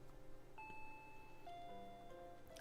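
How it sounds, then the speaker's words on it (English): A doorbell in the Higurashi visual novel game rings as soft, sustained electronic ding-dong tones, the two notes overlapping and fading, faint beneath steady background music. "Ding dong. I jumped at the sound and dropped my chopsticks. That chime signaled that Rena had arrived."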